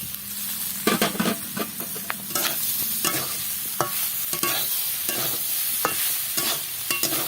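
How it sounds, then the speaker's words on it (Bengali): Fried pointed gourd pieces and potatoes sautéed together with onion in a pan, loud close sizzling with frequent scraping and clattering stirs of a spatula. "আলুগুলো ভালো করে কষিয়ে নেবো একসাথে"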